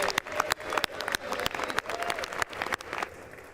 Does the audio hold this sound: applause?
yes